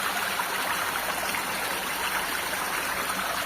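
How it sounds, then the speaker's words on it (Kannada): Water flows steadily at a cave temple, a constant rushing, trickling wash of moderate loudness that stays even and unbroken throughout, with no voices. "ಎಂಥ ಬೇಸಿಗೆಗಾಲದಲ್ಲೂ ನೀರು ಹರಿತಾ ಇದೆ"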